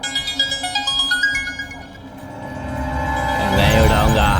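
A phone ringtone in a Hindi-dubbed movie scene plays a repeating melodic tune for a couple of seconds, then gives way to a louder muddle of voices and background noise.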